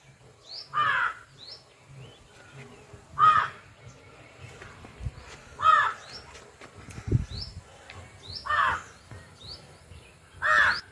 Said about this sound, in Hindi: ये कौवा टाई टाई लगा रहा है।